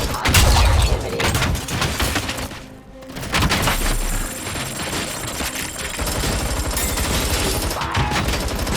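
Sustained gunfire in the Robocop Rogue City video game, a loud, dense, continuous barrage with a brief lull near the middle before the shooting resumes, no voices.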